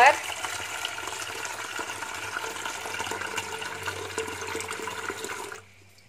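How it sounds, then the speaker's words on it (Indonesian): Roughly 650 ml of water being poured for cooking washed salted eggs, a steady splashing rush lasting several seconds before it stops abruptly, with a voice talking over it. "Jadi siapkan air kurang lebih 650"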